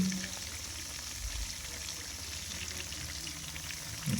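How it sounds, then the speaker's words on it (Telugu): Spicy chicken pieces sizzle and crackle steadily in a pan over a village-style wood-fire stove, a soft, even frying hiss that runs throughout with no talk. "ఫ్రై అవుతున్నాయి బాగానే ఫ్రై అవుతుంది"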